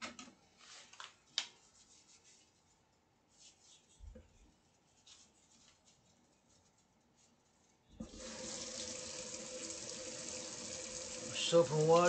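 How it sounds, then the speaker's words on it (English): A kitchen tap runs water steadily into a sink while utensils are washed with soap, starting after a quiet stretch of faint clinks and rubbing, close and fairly loud, with no talk over the flow. "Soap and water, wash, wash,"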